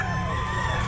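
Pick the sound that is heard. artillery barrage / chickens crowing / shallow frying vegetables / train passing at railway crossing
chickens crowing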